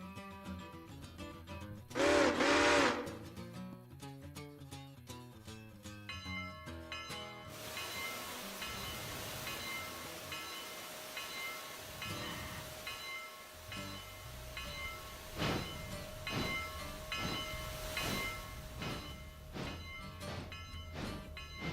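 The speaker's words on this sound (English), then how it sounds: "There's no one in the cab. It's a runaway train." A runaway train with an empty cab in the Railroader video game, rolling and clanking along with a burst of hiss near the start, then sustained rumbling and rhythmic rail clatter.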